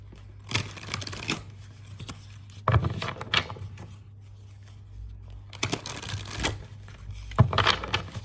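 Tarot cards being shuffled and drawn, bursts of papery riffling and flicking in several separate runs with quiet gaps between, fairly close and clear.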